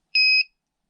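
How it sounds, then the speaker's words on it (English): A single short electronic beep from a budget RC ESC buzzer, high and pure-toned, lasting about a quarter second before silence. "And you heard the buzzer beeping."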